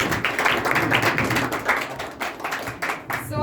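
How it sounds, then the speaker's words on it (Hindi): An audience claps together in a dense, steady patter that holds for a few seconds and then thins into scattered claps, close and fairly loud, at a spoken word poetry event. "के लिए भी एक बार जोरदार तालियां।"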